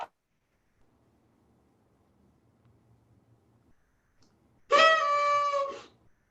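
Dogs let out a single short, loud howl lasting about a second near the end, after a long stretch of near silence with faint background murmur.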